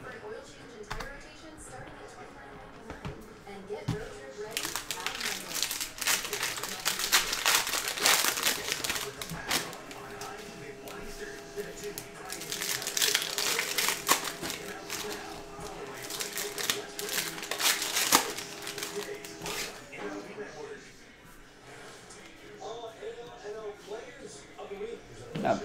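Crinkling and tearing of a foil cello pack of Panini Mosaic basketball trading cards, bursts of crackling plastic rising and falling over about twenty seconds, with someone talking at times.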